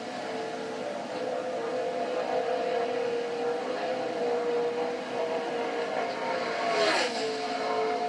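Race car circling the track alone during Daytona qualifying, a sustained engine drone heard at a distance with a slight rise and pitch shift near the end, steady and unbroken.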